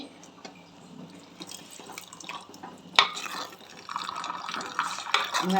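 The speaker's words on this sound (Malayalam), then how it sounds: "നന്നായിട്ട് തിളച്ച് മറിയുണ്ട്" A pot of fish-less fish curry with mango pieces boils close by, giving a busy bubbling and gurgling that grows louder and more vigorous toward the end.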